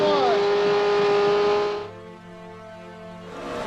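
Onboard NASCAR race car engine in Montoya's car on a road course heading into turn one: a loud, steady high-pitched roar that abruptly drops to a lower, rougher note as the car slows for the corner.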